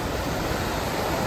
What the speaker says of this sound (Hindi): सुंदर दृश्य, ऊपर से झरना आ रहा है